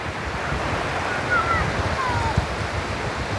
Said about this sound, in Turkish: Karadeniz'in dalgaları. Bugün Karadeniz bayağı dalgalı.